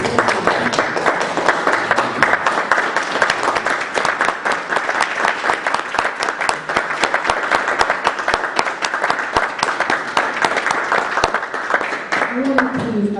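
A crowd at a panel discussion gives sustained applause, with loud, dense clapping that runs unbroken for over twelve seconds. A voice starts to speak near the end.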